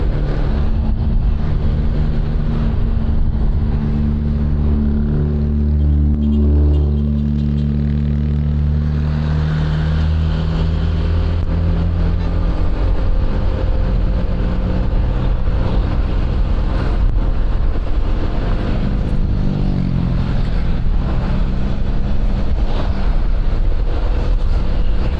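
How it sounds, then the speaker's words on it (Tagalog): Busy road traffic with many vehicles, a continuous rumble of passing engines and tyres heard from inside a moving vehicle, with shifting engine tones and wind noise throughout. "Ang dami sasakyan ng ganitong oras."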